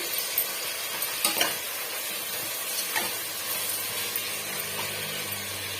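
Ginger garlic paste and tomatoes sauté in a pan for a wedding-style vegetable biryani, a steady close sizzle with occasional stirring scrapes and no voices.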